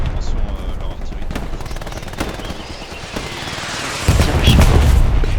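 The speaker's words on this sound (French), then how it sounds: "Attention Sushi, il y a des obus qui arrivent sur toi là" Artillery shells land in the online war game Hell Let Loose, giving sharp booms and crackling bursts of gunfire, with a heavier rumbling barrage near the end.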